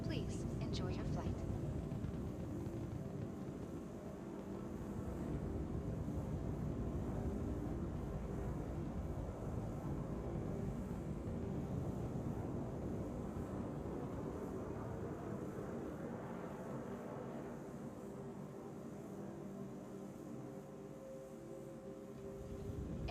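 A Crusader Industries shuttlecraft in flight in a video game, heard as a steady, continuous low engine drone and rumble lasting throughout, with a faint voice talking over it.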